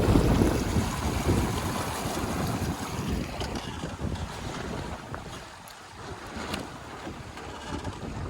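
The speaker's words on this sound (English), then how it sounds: "winds are picking up, so I put a reef in" Strong wind buffets and roars across the microphone aboard an 18-foot sailboat, gusting unevenly over a continuous rush of water, with no voices.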